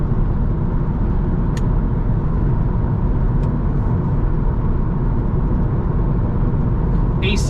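A 1998 Mercedes C43 AMG cruises at 60 mph, a steady broadband roar of road and engine noise with no breaks, heard from inside the car.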